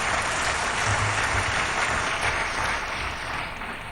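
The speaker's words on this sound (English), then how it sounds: "let's applaud the event and this special launch of Make in India." A steady, dense wash of audience applause at the Make in India launch event, many hands clapping continuously at even loudness before easing slightly at the end.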